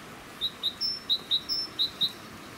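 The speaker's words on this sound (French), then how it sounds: "c'est super agréable avec le bruit des oiseaux" A bird gives a quick series of about eight bright, high chirps, evenly spaced and fairly close, over a quiet background.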